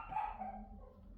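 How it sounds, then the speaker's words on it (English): Dogs bark briefly, faint and at a distance, in a short yapping burst of about a second. "They're going to start barking."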